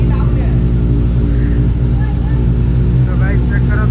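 Several motorcycles idling together at home, including a third-generation Suzuki Hayabusa, a Honda CBR 650 and a Benelli, making a loud, steady, close engine drone without pause.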